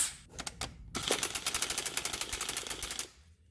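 An impact gun removes a bolt from the AC compressor of a 2001 Subaru Outback, giving a few short bursts and then a rapid, loud, evenly spaced hammering rattle lasting about two seconds before it stops.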